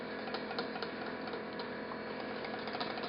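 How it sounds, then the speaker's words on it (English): Egg yolks are whisked with melted butter in a bowl, making a steady, fast, rhythmic ticking and scraping that runs evenly and without pause throughout. "So I've been whisking for about 2 to 3 minutes."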